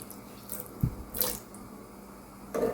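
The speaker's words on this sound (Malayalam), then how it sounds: "അതിലേക്ക് ഒരു അര കപ്പ് വെള്ളം ഞാൻ ഒഴിച്ചു കൊടുക്കുന്നുണ്ട്" Half a cup of water pours into sugar in a pan, heard as brief, quiet splashes and a short trickle against a hushed kitchen background.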